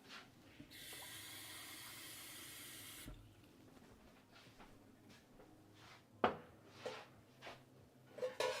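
Hot water runs from a tap into a vessel as it is measured for masa, a steady close gush for about two seconds that then stops, followed by quieter handling knocks and a few sharp taps.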